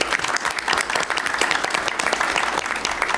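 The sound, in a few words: applause at a board of education meeting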